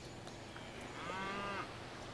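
A single drawn-out cow moo rises from a farm animal in a strategy game, Civilization V, heard faintly over a soft steady background hum with no voices.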